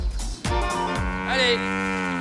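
Normandy dairy cows in grassy bocage pasture give a loud, close, drawn-out moo that swells and holds steady, with a second voice overlapping partway through.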